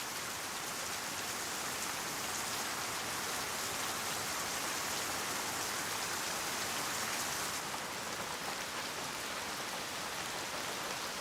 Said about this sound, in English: Rain slowly dissolves the foam.